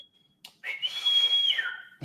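One sustained high whistle from the Seraphites in The Last of Us TV series, sliding up, holding steady and dropping at the end, preceded by a faint thin tone.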